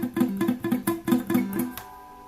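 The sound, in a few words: acoustic-electric guitar strings played with action too low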